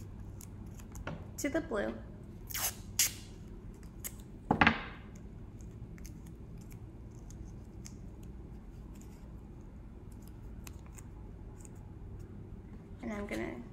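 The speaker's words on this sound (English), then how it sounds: "And I'm gonna get this blue and tape it." Tape pulled and torn while blue paper strips are stuck down for a children's color craft. A few sharp rips and crackles come in the first five seconds, then quiet handling, with a voice speaking briefly.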